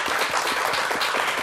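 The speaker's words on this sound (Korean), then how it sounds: "큰 박수로 함께 해주시죠." Dense studio audience applause on a Korean morning talk show, loud continuous clapping from many people filling the whole moment with no voices.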